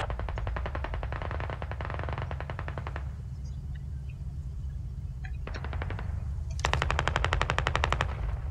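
Machine gun fire in the tactical shooter Squad: rapid sustained bursts of automatic fire, a long burst, a pause with low rumble, then more bursts, the last one louder and closer, with no talk.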